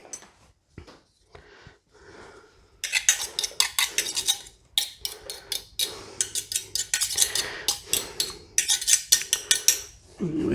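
A utensil presses and scrapes through hard-boiled egg whites in a bowl while mashing them for tuna salad, giving sharp, rapid, irregular clinks and scrapes that grow busier and louder after a quiet start, close up and with no talk.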